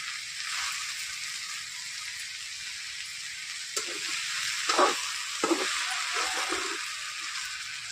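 Chopped tomatoes frying in hot oil in a home kitchen pan, a steady close sizzle with a few louder crackling bursts and stirring clatters partway through.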